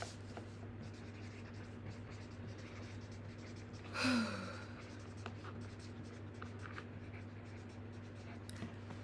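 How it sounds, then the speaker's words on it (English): Pen or pencil scratching briefly across paper by hand, a single short stroke over a steady low hum, quiet and close, with faint rustling around it. "Let me write it down."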